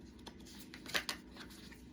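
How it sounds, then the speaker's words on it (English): Quick, soft riffling of tarot cards being shuffled by hand, a few brief papery flutters close by, faint and without talk. "the mystery card still wanted to come out even after all that shuffling"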